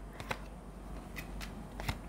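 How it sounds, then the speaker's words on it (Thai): Tarot cards being drawn and shuffled by hand, a few quick riffling snaps and soft slides of card stock across a short stretch, close and fairly quiet with no voices. "ไหนขอไพ่แนะนำหน่อยไพ่แนะนำ"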